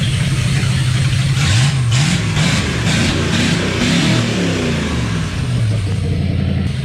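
Pontiac Firebird engine revving, a loud close rumble that rises and falls through several throttle blips over a steady idle, with no talking.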